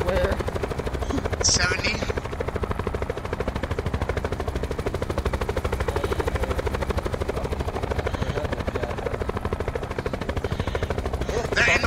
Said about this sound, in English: There's another helicopter right there.